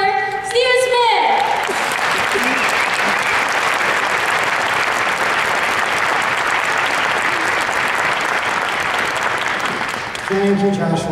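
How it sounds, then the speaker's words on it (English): Concert audience at a symphony orchestra birthday event breaks into a loud, sustained round of applause, dense clapping filling the hall for about nine seconds, with a speaking voice before it starts and again as it fades. "please give a round of applause for Stephen Smith!"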